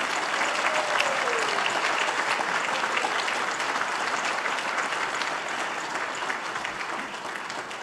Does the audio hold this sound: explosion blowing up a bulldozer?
no